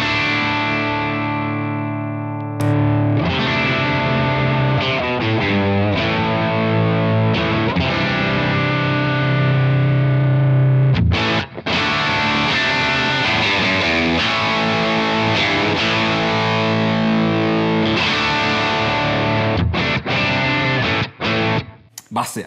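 Electric guitar played through a Czech Tesla silicon-transistor effects pedal with light gain and some treble, ringing chords and riffs with a driven, saturated tone, loud and close with brief pauses between phrases.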